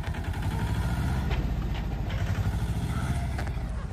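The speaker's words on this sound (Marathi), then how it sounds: "तू साईडला हो जरा. ट्रॅक्टर जाऊ दे." A tractor engine runs loud and close on a farm, a steady low rumble with a rhythmic chugging beat throughout.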